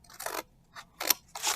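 Scissors cutting paper for a children's art project, four short crisp snipping strokes in an uneven rhythm, close and fairly quiet.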